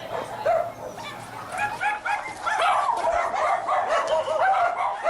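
Puppies kept by volunteers bark and yip in a rapid, overlapping chorus, close and fairly loud, with excited whimpering mixed in.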